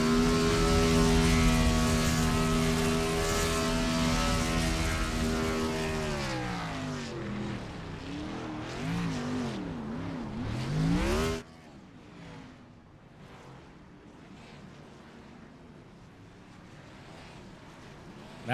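A race car in a racing video game performs a burnout at Charlotte Motor Speedway, its engine roaring loud and steady, then the revs rise and fall in sweeping waves before the sound cuts abruptly to a quieter, distant hum.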